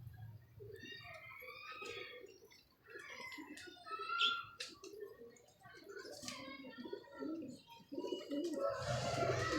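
Pigeons coo softly and repeatedly close by, with light chirps and someone speaking over them.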